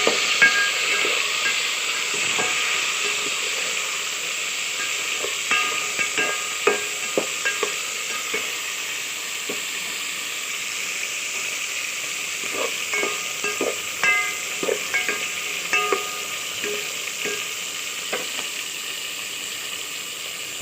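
Onions and tomatoes sauté in a pan for a South Indian herbal kuzhambu, making a steady sizzling hiss broken by frequent scraping and clinking stirs of a spoon against the pan. No one talks.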